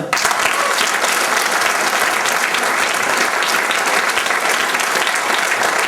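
An audience applauds a musician at a show in Châtel-Guyon, dense, sustained clapping from a full room that holds steady throughout.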